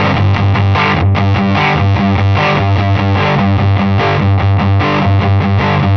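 An electric guitar plays through Mini Fuzz Face distortion pedals, giving a thick, buzzy fuzz tone. Steady chords and riffs sound loud and continuous, with no voices.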